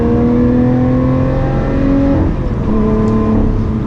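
Lotus Evora 400 supercharged V6 pulling hard under throttle, a loud close engine drone with rising whine and a quick shift dip midway before climbing again.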